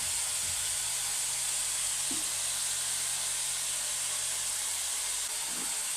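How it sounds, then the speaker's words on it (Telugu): Tomatoes dropped into a hot pan for village-style tomato rice, giving a steady, soft sizzling hiss with a few faint stirring clicks, no voices. "టమాటాలు వేస్తున్నాను ఇప్పుడు"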